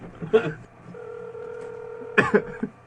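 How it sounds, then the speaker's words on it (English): Telephone touch-tone keypad dialing a number, a couple of steady beeping tones with a longer held tone between them, heard close with a cough and brief voices around them. "Can you dial Wesley for me?"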